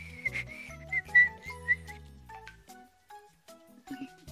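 A young girl whistles a bright, wavering melody in short phrases, close and fairly clear, with music playing underneath and a few soft background sounds.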